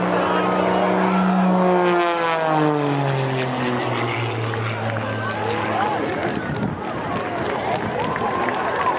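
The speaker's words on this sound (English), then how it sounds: "He's hanging the airplane on the prop." An MX2 aerobatic propeller airplane performs at the Boundary Bay airshow, its engine loud and near with a sweeping pitch that drops and wavers as it maneuvers, while a commentator talks over it.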